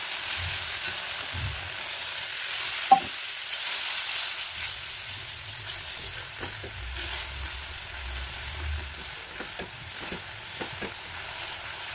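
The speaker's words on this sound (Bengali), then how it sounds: "একটু নেড়ে চেড়ে সামান্য হলুদ আর সামান্য জল দিয়ে আবারও কষিয়ে নিলাম।" Banana flower stir-fried with a little turmeric and water hisses softly in the pan, with faint scraping and stirring clatter and one sharp utensil knock.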